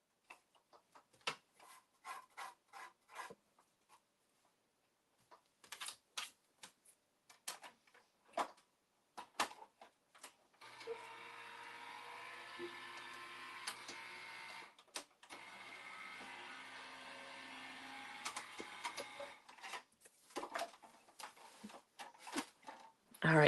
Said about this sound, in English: And again, I'm going to use my die cut machine.